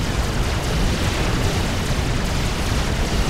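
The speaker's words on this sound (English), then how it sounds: "Loyalist explosion stunning those Ilshis for a second there." A Loyalist unit explodes in the strategy game Forged Alliance Forever, a dense, loud, rumbling blast that fills the whole span with sustained crackling debris-like noise.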